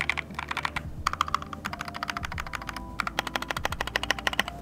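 A Keychron K2 mechanical keyboard is typed on in quick, uneven bursts of crisp clacks, close and clear, with short pauses between runs of keystrokes and rattling stabilizers.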